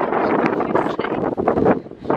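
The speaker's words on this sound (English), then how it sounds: "It's still raining and it's very windy" Strong wind gusts buffet the microphone with a loud, roaring rumble that rises and falls unevenly throughout, during rain at a campsite on Shell Island.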